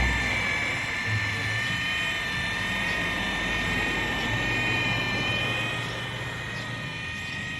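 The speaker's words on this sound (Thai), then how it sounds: "รอจนเสียงมอเตอร์เงียบนะครับ" A steady electric motor whine with a high-pitched tonal hum runs continuously over low rumbling background noise, from the remote-controlled motor raising a WILD LAND PathFinder II tent.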